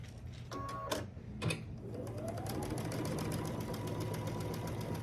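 A sewing machine stitching a row of a Grinch quilt block, running in a fast steady mechanical whir close by after a couple of short clicks and bumps at the start.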